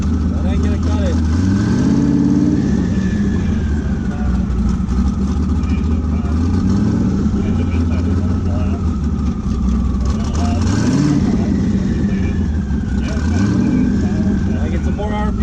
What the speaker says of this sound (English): I get some more RPM, some more wheel spin